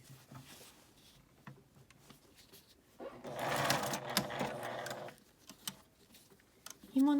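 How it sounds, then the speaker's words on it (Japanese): A sewing machine runs a steady edge-stitch along the top of a fabric tote bag, a dense mechanical whirr lasting about two seconds amid quieter handling noises. "上も端ミシンをかけます。"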